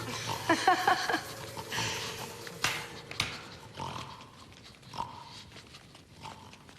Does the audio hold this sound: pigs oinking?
yes